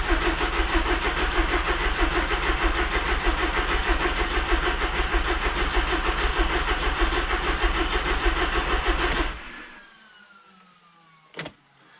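A wrecked Audi TT raised on a jack cranks steadily with a rhythmic, loud whirring churn for about nine seconds, then cuts off into near silence followed by a single sharp click.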